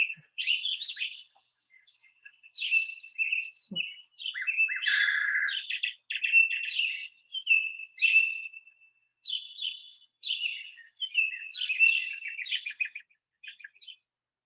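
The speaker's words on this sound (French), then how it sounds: "écouter, des chants d'oiseaux" Birdsong played back from a recording: a steady stream of bright chirps, trills and whistled phrases, fairly loud and continuous for the whole stretch, with no talking over it.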